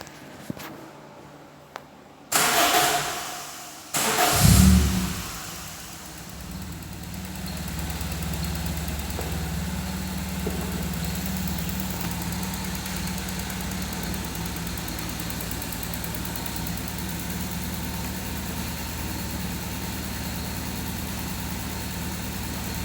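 A Toyota Soluna car engine cranks, fires up with a rev, then settles into a steady, even idle heard close by, with no talking.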